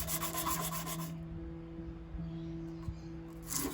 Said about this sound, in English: Now, separate those two and start sanding.